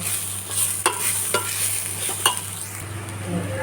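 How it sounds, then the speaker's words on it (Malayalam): Onions sautéed with chili powder and turmeric for biryani, a steady close sizzle broken by sharp spoon scrapes and taps against the pan, no voices. "അതിലേക്ക് നമ്മൾ ഒരു രണ്ട് ടീസ്പൂൺ മുളക് പൊടിയും അര ടീസ്പൂൺ മഞ്ഞൾപ്പൊടിയും ചേർത്ത് നന്നായി ഒന്ന് വഴറ്റി കൊടുക്കാം"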